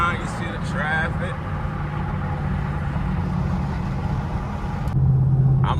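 Chevrolet Camaro SS with an aftermarket exhaust cruising in traffic, a steady low rumbling drone from inside the car, moderately loud and continuous, with a voice speaking briefly at the start.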